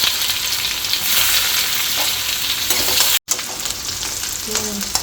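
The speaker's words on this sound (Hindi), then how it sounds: "प्याज भून लेंगे।" Steady, loud sizzling and crackling of onions frying with mustard seeds and cumin in a hot pan, with a brief stir near the end.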